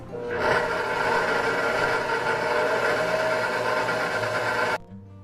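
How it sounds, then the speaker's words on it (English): An electric mixer running steadily while blending lemon zest into no-bake strawberry cheesecake batter, a continuous whirring motor hum held for several seconds, then abruptly switched off, close and loud with no speech. "we'll mix just enough to have it incorporated in our batter"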